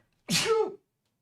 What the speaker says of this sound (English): Big sneeze.